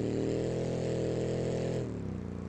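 Car engine in the video game BeamNG.drive, a Volkswagen Beetle with a damaged exhaust, giving a loud, steady, buzzing roar that drops in pitch and eases off near the end.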